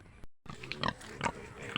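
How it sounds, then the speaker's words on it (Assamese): A pregnant sow on a pig farm in Assam gives a few low, close grunts in short bursts after a brief gap of silence, with no talking. "আৰু এজনী গাহৰি দেখাইছোঁ"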